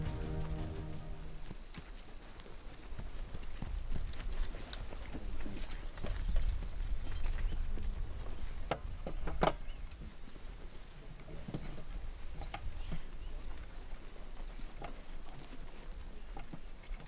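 Horse hooves clip-clop steadily through a radio-style audio drama about a detective and a carbon arc contraption, a moderate, continuous trotting rhythm with faint background texture and no talk over it.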